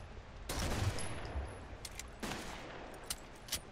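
Bursts of gunfire in the video game Rainbow Six Vegas, two sustained volleys with scattered single shots between them, moderately loud against a quiet background.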